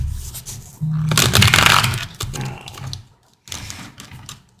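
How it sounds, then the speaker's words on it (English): Tarot of the Divine cards shuffled by hand in bursts of riffling and sliding, loud and close, with brief pauses between rounds. "hate when the shuffle seems like it's going to go well and then it just doesn't"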